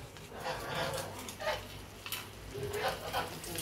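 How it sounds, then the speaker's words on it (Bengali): Chicken meat and dried chilies frying in hot oil for chicken khichuri, a steady close sizzle with soft stirring scrapes rising in brief bursts, no voices. "এখন এই তেলেই আমি মাংসগুলো কষে নেব।"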